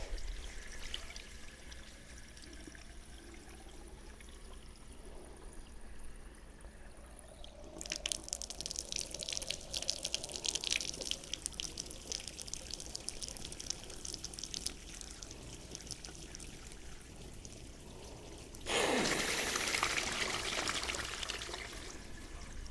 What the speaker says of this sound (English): Just going through a few cycles of filling this radiator up with water and letting the water flush out of there.